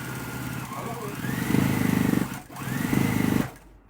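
A home sewing machine runs in two bursts of stitching while a loose tray rattles noisily against it, the motor whirring close and loud with a short pause between runs, during quilt piecing.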